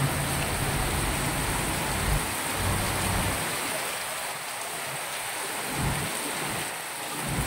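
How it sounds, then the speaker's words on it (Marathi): Heavy monsoon rain pours over a flooded road in Chikhli, Pune, a loud dense wash that thins after a couple of seconds into a steadier hiss with low rumbling swells. "पाऊस पाऊस पाऊस पाऊस बघा बघा"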